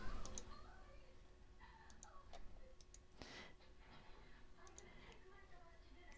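Quiet, quick computer mouse clicks tap out in short bursts, faint and close, under a soft voice talking.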